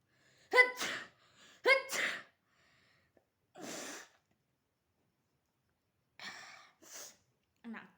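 Several sharp sneezes come in quick bursts, a pair close together, then a breathy one, then more after a pause, loud and near, during a sneezing challenge.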